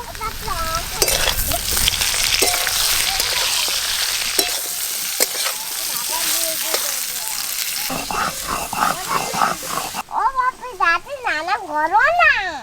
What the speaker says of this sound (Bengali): এবার আমি কেটে রাখা বেগুন দিয়ে আলু বেগুন ভালো করে ভেজে নেব।